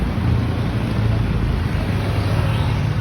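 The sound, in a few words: modern jeepney engine revving under full accelerator, low power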